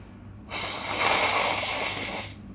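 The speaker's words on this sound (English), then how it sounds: "I need to blow my nose again." A person blows their nose in one long, loud, breathy blast lasting about two seconds, close to the mic, with no talking.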